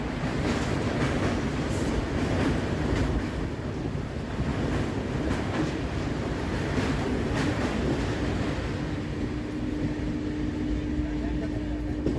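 The Darjeeling Mail train crosses the Mahananda river, a loud, dense, continuous rumble and rattle of wheels over the bridge, heard close from on board amid steady rushing wind.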